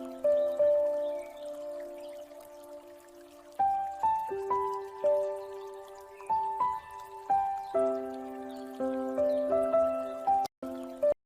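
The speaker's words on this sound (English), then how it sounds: "Nature, water, light piano in the background." AI-generated audio: soft, sparse piano notes ring out over a faint trickle of water, with gentle pauses between phrases.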